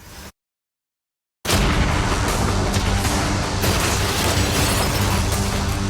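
Cannons fire at a yacht during an outdoor challenge, a loud sustained blast and roar that starts after a brief silence and stays dense and powerful to the end.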